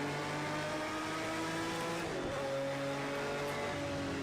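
A Jaguar XJR-9 race car engine at the historic Spa circuit in Project Cars 2, droning loud and steady, with a brief dip in pitch midway as the revs change.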